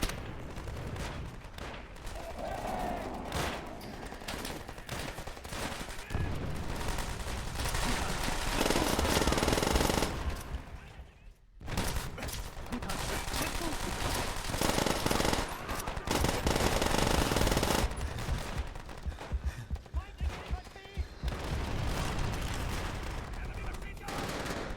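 Sustained automatic machine gun fire from World at War on Veteran difficulty, near and loud in dense continuous bursts, with one short break near the middle and a few voice lines mixed underneath.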